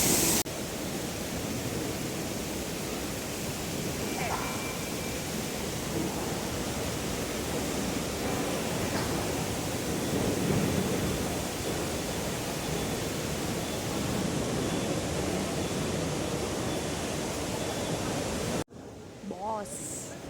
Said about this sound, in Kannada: Water falls.